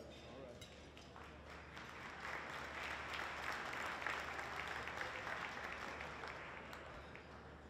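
Steady applause from a gala audience at an awards evening, a dense wash of many hands clapping that swells slightly in the middle and holds, heard from a distance and fairly faint.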